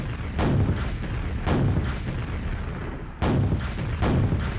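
Grenade launcher blasts in a first-person shooter video game, four booming explosions spaced about a second apart, loud and close with rumbling tails and no talking.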